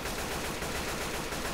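Rapid video game gunfire rattles in a dense, continuous burst, fairly quiet and steady, with no talking over it.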